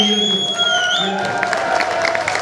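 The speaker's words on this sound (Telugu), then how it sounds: "క్లాప్స్ ఇస్తే ఇది ఊడిపోవాలి" Seminar crowd breaks into clapping and cheering after a spoken line over a held tone, the applause and shouts building toward the end.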